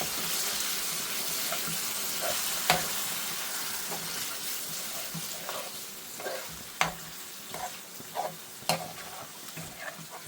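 Chicken jalfrezi ingredients with base gravy sizzle in a hot restaurant pan as they are stirred, a soft continuous frying hiss punctuated by scattered scraping clicks and knocks.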